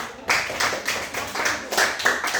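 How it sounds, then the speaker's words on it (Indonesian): A class applauds after a group presentation in short, rhythmic bursts of clapping at moderate loudness, heard close in a room. "Kita tepuk tangan."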